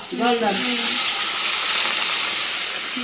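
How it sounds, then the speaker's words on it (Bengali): Water poured into a pan of frying potatoes for a fish roe curry sets off a loud, steady sizzling hiss that fills the whole moment, preceded by a brief spoken word at the start. "এবার জল ঢেলে দিলাম"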